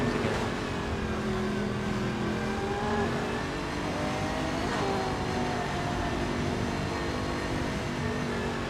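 A Lexus race car engine roars in a racing video game, a loud, continuous drone with shifting pitch as the car accelerates, alongside other cars on track, heard without any talk.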